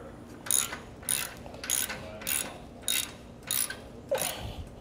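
A ratchet tightens a hex nut over a split lock washer on a hinge bolt of a Fulton fold-away trailer coupler, about seven short bursts of clicking in a steady rhythm, close and alone.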